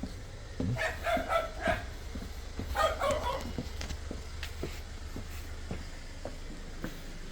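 A dog barks in a home where cats are eating, a short burst of several quick barks early on, then quieter scattered sounds over a steady low background hum.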